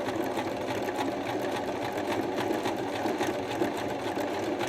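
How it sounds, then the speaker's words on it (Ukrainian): A sewing machine runs steadily, stitching a test piece of fabric with a continuous, even mechanical whir that stays loud and alone throughout. "опускаємо голку в тканину, опускаємо лапку, нитки розправили, починаємо шити"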